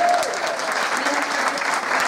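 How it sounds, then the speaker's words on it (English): Audience applause for a one-woman show, steady and dense clapping from a crowd that fills the whole stretch at an even, fairly loud level. "Can we have a round of applause for that?"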